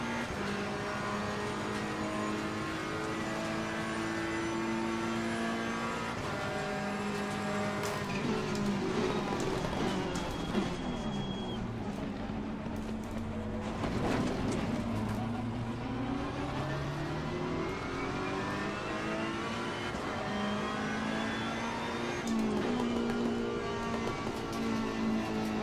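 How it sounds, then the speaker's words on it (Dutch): Ferrari 488 race cars lapping Monza in Assetto Corsa Competizione, with engines droning and rising in pitch through gear changes as the cars accelerate. The engine note is loud and steady for the whole stretch. "Het geluid van deze auto's is fantastisch"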